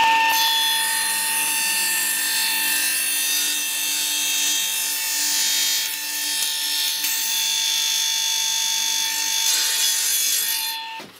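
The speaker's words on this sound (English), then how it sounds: "I will finish the rest of the saw cut on the bandsaw." A bandsaw cuts through a wooden part for a book scanner build, a steady, continuous buzzing rasp with a constant motor hum, loud and close for about eleven seconds before stopping abruptly.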